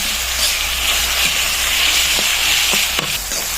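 Onion, chili and garlic sizzle loudly in a hot pan, a constant bright frying hiss with a few soft knocks of stirring, with no talking over it.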